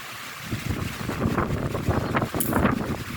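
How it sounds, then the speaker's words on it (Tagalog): Strong wind roars steadily across the microphone in gusty, rumbling bursts, with a boat's engine droning underneath and water lapping nearby on San Antonio Bay, Laguna. "malakas ang hangin"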